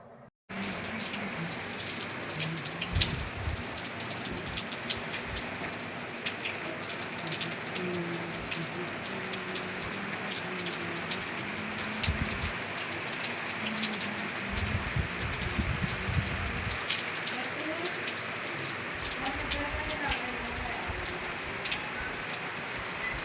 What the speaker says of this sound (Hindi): लगातार बारिश ही हो रही है हमारे यहाँ पे